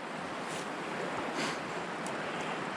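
Shallow, fast-moving water of the Lehigh River in Pennsylvania rushes in a steady broadband wash, with a few brief louder surges, heard alone without talk.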